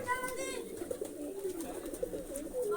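Large pigeons coo softly in a low, burbling rhythm, with faint background murmur and no clear speech.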